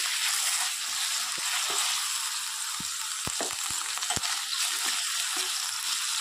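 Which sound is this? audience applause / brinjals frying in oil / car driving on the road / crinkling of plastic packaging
brinjals frying in oil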